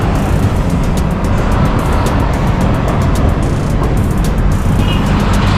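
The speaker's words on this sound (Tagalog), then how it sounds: "So, ang dami sasakyan dito." Heavy traffic along Cabrera Road near the hilltop, with many vehicles producing a continuous, loud, close road rumble that never lets up.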